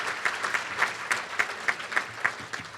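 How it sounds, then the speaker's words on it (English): Dinner audience applauding the Lugnuts at a baseball first pitch dinner, dense clapping from a crowd with a few sharper, regularly spaced claps standing out near the front. "Big round of applause, please, for the Lugnuts."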